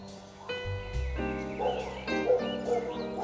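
A dog gives a few short yips and whimpering barks amid steady background sound with musical tones, moderately close and not especially loud.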